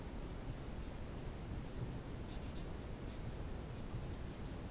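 Pen writing out a physics equation on paper or a board, a soft continuous scratchy rustle with faint strokes, steady and close, no talking.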